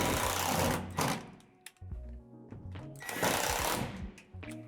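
A power drill drives screws through holes to fix the front of a roof panel to the transom of a Lifetime 8' x 5' modern shed, in two loud bursts of whirring with quieter gaps and handling noise between.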